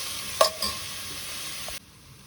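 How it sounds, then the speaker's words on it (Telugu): Red and yellow Bangalore bell peppers fry in a covered pan with salt, chili powder and coconut powder for a capsicum egg curry. A steady soft sizzle is broken by a couple of light clinks, then cuts off abruptly. "ఇది మిర్చి వేసిన తర్వాత ఇక మూత పెట్టి ఒక 10 నిమిషాలు ఇది ఫ్రై అయిన దాకా ఉంచుతాం"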